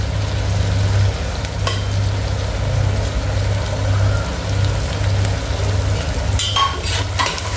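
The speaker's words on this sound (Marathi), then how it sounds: "हळद, मसाले हे सगळं आपल्याला भाजून घ्यायचंय। तेलामध्ये चांगलं परतून घ्यायचंय सगळं।" Turmeric and spices roast in hot oil with softened onion and tomato for mutton kheema, giving a continuous close sizzle with occasional scraping stirs and no talking.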